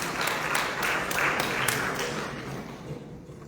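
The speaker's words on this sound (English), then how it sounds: "Round of applause, please." Conference audience at the 5th International Oil Palm Biomass Conference gives a round of applause, a moderate wash of many hands clapping that gradually thins and fades toward the end.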